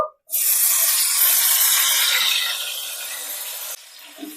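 Chopped large tomato hitting hot oil tempered with black cumin, bursting into a loud, close, broad sizzle that holds steady and then gradually softens before cutting off abruptly.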